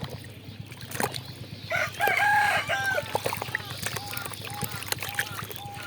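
A domestic hen clucks and squawks during and after a bath, close by, mixed with splashing, handling noises and a steady low hum.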